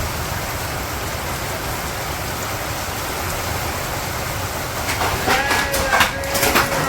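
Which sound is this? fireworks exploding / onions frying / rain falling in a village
rain falling in a village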